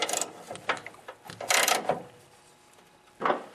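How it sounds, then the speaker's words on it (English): A 12mm wrench tightens the four top bolts on the auger gearbox of a Honda snowblower, giving a few short ratcheting bursts separated by pauses, close and fairly clear with no talking. "I'm going to tighten these up with a 12mm wrench."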